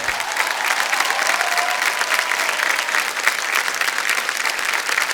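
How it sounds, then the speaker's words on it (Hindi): A studio audience on the KBC quiz show claps for a winning contestant, with dense, even applause sustained at full strength for several seconds and no talking over it. "तालियां बज जाएं इनके लिए"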